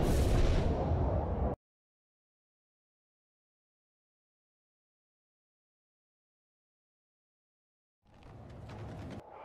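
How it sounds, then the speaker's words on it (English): Artillery fire in the Imjin War mod of a strategy video game, green dragon-fire style cannons booming loudly in a dense burst for about a second and a half, then silence, then another rumbling volley near the end. "We have plenty of these green artillery. They are some sort of dragon fire something artillery."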